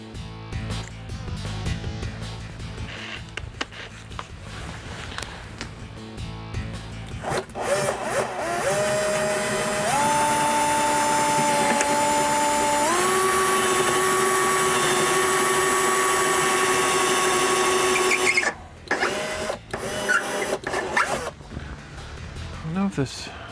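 A power drill with a dull, cheap bit grinds through a metal shelf, its motor whining in a long sustained push that climbs in pitch in steps before cutting off, with scattered handling noises around it.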